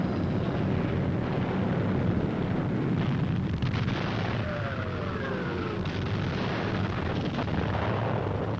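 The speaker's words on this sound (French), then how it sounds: "tandis que l'artillerie pilonnait le poste" Archival war newsreel of artillery shelling a fortified post: a continuous roar of distant bombardment and rumbling blasts under a heavy wash of old recording noise, with no voices.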